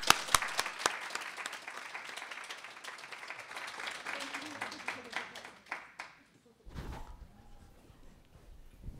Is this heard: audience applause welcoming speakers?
yes